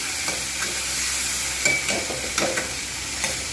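Chickpeas lightly frying in oil in a pan, a constant close sizzle with intermittent scraping and stirring knocks from a spatula, no voices.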